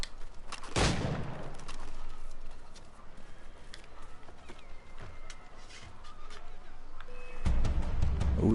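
A single loud gunshot goes off early in Assassin's Creed III Remastered, a sharp burst with a short tail, followed by quieter game ambience and another heavy burst near the end.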